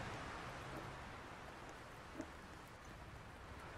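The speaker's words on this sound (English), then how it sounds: "It's just a little rain." Rain in the Roblox video game, a steady, faint hiss of rainfall on surfaces with a single soft tap partway through and no voices.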